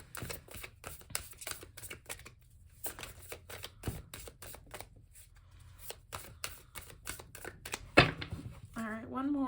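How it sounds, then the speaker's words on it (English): Papery riffling bursts of tarot cards being shuffled, repeated in quick clusters with short pauses, close by, with a sharper snap near the end. "one more shuffle and then we'll go ahead and cut"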